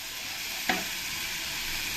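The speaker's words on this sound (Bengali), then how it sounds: "আর এক চামচ হলুদ দিয়ে দেব আর দিয়ে দেবো এক চামচ কাশ্মীরের লঙ্কার গুঁড়ো দিয়ে ভালো করে একসঙ্গে কষিয়ে নেব" Turmeric and Kashmiri chili powder fry in a pan for a Bengali-style prawn malai curry, giving a steady low sizzle with one brief scrape of stirring partway through.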